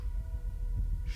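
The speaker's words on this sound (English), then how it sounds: "you hear the heartbeat" A low, muffled heartbeat sound effect throbs steadily under a faint hum during a tabletop fantasy role-playing session.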